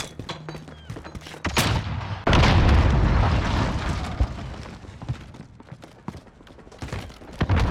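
A grenade goes off in Modern Warfare amid gunfire: scattered sharp shots, then a loud heavy boom with a rumbling tail, followed by more sporadic shots.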